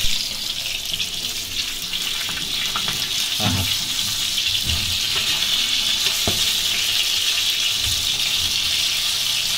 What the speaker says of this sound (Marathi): एका बाजूने फोडी शेकवली आणि आता परत एकदा पलटून घ्यायचे छानपैकी बघा.